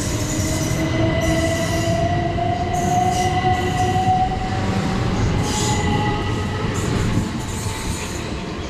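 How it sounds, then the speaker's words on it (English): A Class 377 electric train pulls out of Norbury station toward Epsom Downs, a loud, steady rolling roar with a rising motor whine, squealing wheels and faint clickety-clack. No one talks. "departing out now is 377 111 and 153 heading to Epsom Downs."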